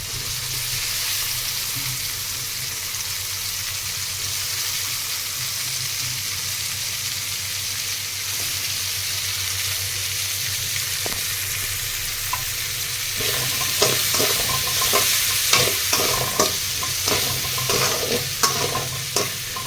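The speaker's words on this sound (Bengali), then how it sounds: "পেঁয়াজ, টমেটো, কাঁচা লঙ্কা সব একসাথে দিয়ে সুন্দর করে ভেজে নেব।" Onion, tomato and green chilli sizzle steadily in a hot pan, with a spoon scraping and stirring in repeated strokes toward the end, close and continuous.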